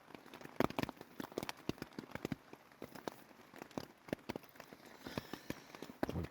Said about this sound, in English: I'm getting used to the rain.